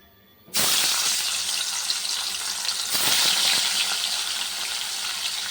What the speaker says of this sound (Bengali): তেলটা ফেলে দেবো, এর মধ্যে মাছটা ভেজে নেবো